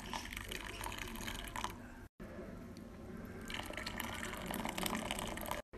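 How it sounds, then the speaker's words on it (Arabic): Hot water poured from a cup into a bowl of strawberry jelly powder, a steady splashing pour that runs continuously with a brief break partway through. "هنحط كوبايتين مية سخنة"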